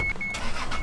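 An Isuzu VehiCROSS engine cranks and catches in a brief, loud burst of broadband mechanical noise close by, with a whirring motor tone early on.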